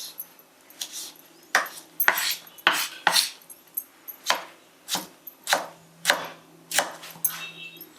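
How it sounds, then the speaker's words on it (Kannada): A knife chops tomatoes on a cutting board for Mangalore-style tomato saaru, about a dozen crisp, evenly spaced thuds close by, with no talking. "ಇತ್ತೆ ತುಲೆ ಯಾನ್ ಟೊಮೆಟೊ ಪೂರ ಮೂರ್ದಾಂಡು"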